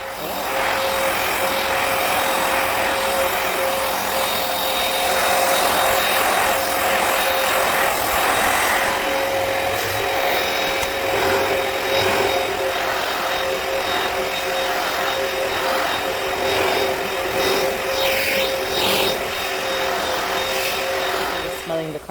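A Hoover Power Dash pet carpet cleaner runs steadily on carpet, a constant loud whirring motor drone with faint tonal whine throughout, broken only by slight shifts as the machine moves.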